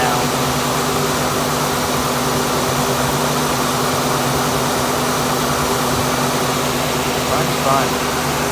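A 1974 AMC Hornet engine with Edelbrock EFI idles with a steady, loud, even drone and a constant low hum throughout, while people talk faintly over it.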